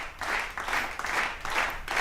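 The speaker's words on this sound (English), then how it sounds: "They're cheering. Do you hear them?" A studio audience cheers and applauds in short rhythmic swells, a steady wash of clapping and voices at moderate loudness with no clear single speaker.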